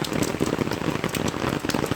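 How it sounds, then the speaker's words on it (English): Steady rain pours down outdoors on a dull rainy day, a dense, close patter of drops on surfaces with no voices over it. "the rain is currently falling"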